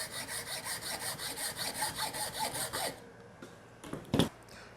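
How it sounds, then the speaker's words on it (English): A hacksaw cuts through a push pole along a taped line, with rapid, even back-and-forth strokes for about three seconds, then stops and leaves a few faint scrapes and a brief clatter. "Taking our hacksaw, laying it on the tape line edge, I want to follow that all the way through."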